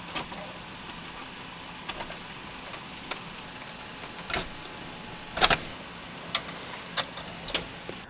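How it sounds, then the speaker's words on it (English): Electric power front seats in a BMW E53 X5 whir forward as a steady motor drone, broken by a few light clicks and ticks, close by with no talking. "we do need to move the front seats forward"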